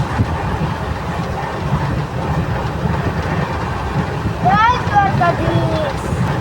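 A train rumbles along in a steady low roar with wind buffeting, while a voice talks over the noise near the end, approaching Dwarka.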